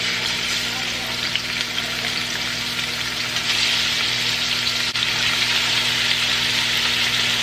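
Andouille pork sausage fries in olive oil in a heated pot, giving a constant close, even sizzle with a faint knock partway through.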